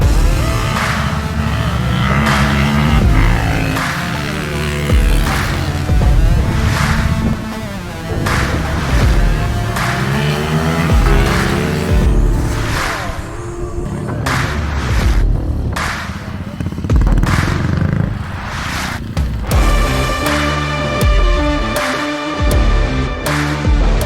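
Motorcycles race at a motorcycle festival, engines roaring and revving loudly as bikes pass one after another, with rising and falling whines and a constant rumble throughout.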